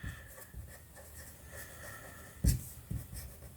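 A pen scratches out numbers in short strokes during a maths lesson. The writing is quiet and close, with a couple of sharper taps near the end.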